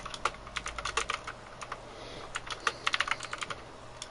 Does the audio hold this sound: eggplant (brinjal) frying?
no